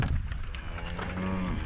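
Cows moo in a loud, close, drawn-out low call with a second moo overlapping, heard alone without talk.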